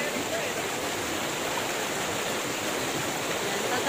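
The waterfall and stream at Martin Falls in Olongapo City give off a loud, constant rushing roar of falling water, dense and unbroken throughout.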